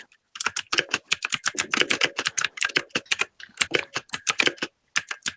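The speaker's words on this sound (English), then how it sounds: "Oh, we're getting somebody's keyboard." Rapid computer keyboard typing comes through a voice chat during an online tabletop game session. The clacking keystrokes are close, loud and continuous, with a brief pause midway.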